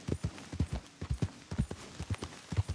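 Horse hooves clip-clopping at a steady riding gait in the game Red Dead Redemption 2, a quick regular rhythm of close, distinct thuds.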